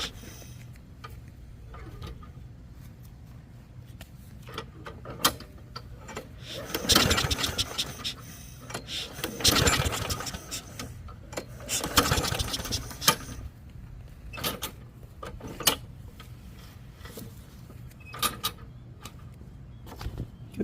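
A Briggs and Stratton lawn mower engine with a newly replaced carburetor is cranked in a few loud, rough bursts that sputter without settling into a steady run, separated by quieter clicks and handling noises.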